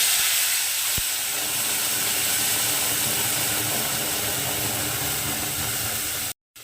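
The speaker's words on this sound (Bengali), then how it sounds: "তেলটা গরম হয়ে গেছে আর এই যে আমি যে জারটার মধ্যে টমেটো আদা আর কাঁচা লঙ্কা পেস্ট করেছিলাম তো সেটাকে দিয়ে দিচ্ছি" Tomato, ginger and green chili paste sizzling in hot oil for a tangy prawn dish, a loud, steady hissing sizzle with one sharp tap near the start, alone without speech.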